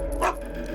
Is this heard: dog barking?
yes